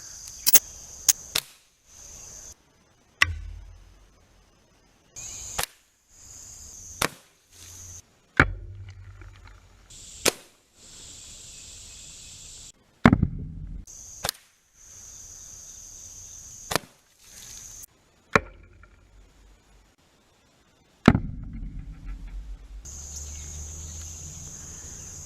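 A .177 and a .22 pellet gun fire into blocks of soap, giving about a dozen sharp, separate cracks and thuds spaced a second or more apart, each followed by quiet, with faint handling noises between shots.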